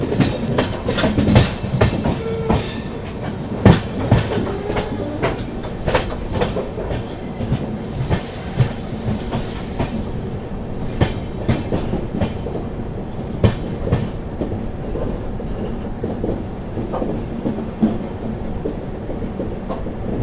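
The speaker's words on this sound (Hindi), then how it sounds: "अपनी तमिलनाडु एक्सप्रेस पहुंच चुकी है बल्हारशाह रेलवे स्टेशन पर।" The Tamil Nadu Superfast Express arriving at Balharshah railway station, rumbling steadily with rhythmic clattering of wheels on rails, loud and close, with occasional squeals and clanks throughout.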